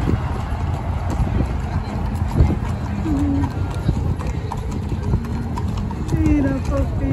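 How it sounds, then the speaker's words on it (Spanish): A horse's hooves clip-clop in a quick, steady rhythm close by, with outdoor background noise and people chattering excitedly throughout. "Qué hermosura de caballo"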